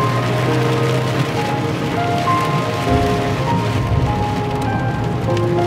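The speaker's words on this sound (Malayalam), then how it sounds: "ഭയങ്കര മഴ." Heavy rain pours steadily near the Kuthiran tunnel, a dense, unbroken roar of drops drumming on surfaces throughout, loud and close with no voices.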